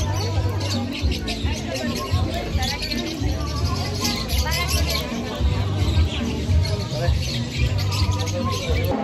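Small birds squawk and chirp repeatedly amid a busy crowd babble, sharp scattered calls close by, with people talking throughout.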